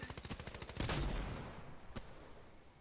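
Rapid bursts of video game gunfire, an automatic weapon rattling off a string of shots before one big, loud blast that slowly fades, with a single further shot near the end.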